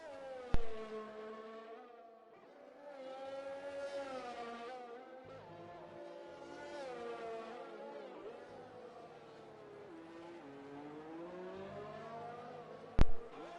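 F1 race car engine in a racing video game on a Vietnam circuit, a steady high-pitched whine that rises and falls with gear changes and throttle, moderately loud and continuous, with two sharp clicks near the start and end.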